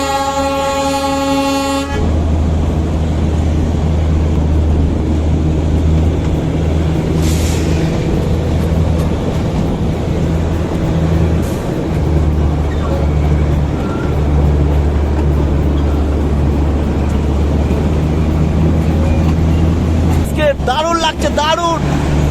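Darjeeling Himalayan Railway toy train running near Batasia Loop: a steady low rumble of rolling wagons persists throughout, with a brief horn-like tone at the start and a sharper rattling burst near the end.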